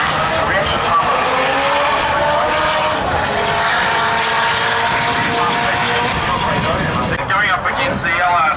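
Drag racing cars at a V4 and rotary nationals meet launching down the strip, a loud continuous high-revving engine roar close by with a commentator talking over it.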